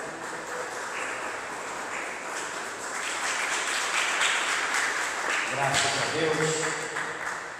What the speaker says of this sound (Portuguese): dê uma salva de palmas para Jesus bem alegre